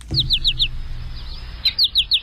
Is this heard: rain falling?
no